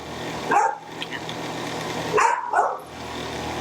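A dog gives a couple of sharp, close barks, pausing between them, over a low steady background hum.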